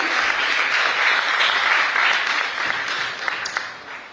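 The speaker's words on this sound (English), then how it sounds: "A big round of applause, please, everybody." A crowd at a market expo applauds a guest coming on stage, a steady wash of clapping that slowly thins out near the end.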